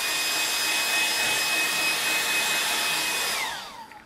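Hair dryer blowing on an ink illustration, a steady close airy roar with a faint whine that winds down as it switches off near the end.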